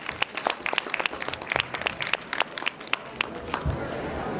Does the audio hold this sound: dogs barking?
no